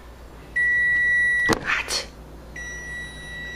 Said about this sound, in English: The timer goes off.